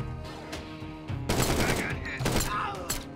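Rapid bursts of gunfire in the Door Kickers 2 tactical shooter game, two dense volleys of loud shots over a low rumble, with a bit of background voice between them.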